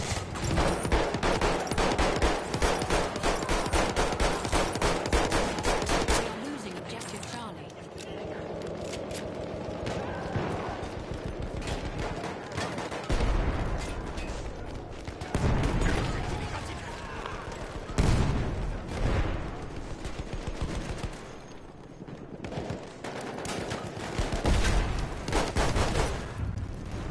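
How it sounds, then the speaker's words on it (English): Dense bursts of gunfire and booming explosions from a Battlefield 1 match run almost continuously, loud and close, with automatic fire chattering between heavier blasts and some player talk mixed in. "That's a lot of explosions."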